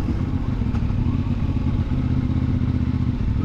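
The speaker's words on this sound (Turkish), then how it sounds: "Bakın 2000 devir ya, 1800 devir. Hafif gaz açıyorum." CFMoto 450MT motorcycle engine held at low revs around 1800–2000 rpm with a light throttle, a steady, smooth mid-pitched hum that stays at an even level throughout with no surges.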